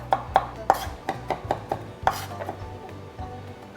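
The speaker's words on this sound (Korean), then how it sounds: "마늘 입자가 굵지 않게 곱게 다져 주시면 좋아요." A knife chops finely through garlic on a cutting board, crisp repeated taps in an irregular quick rhythm with short pauses, close and clear with no talking.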